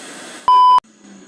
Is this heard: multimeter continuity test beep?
yes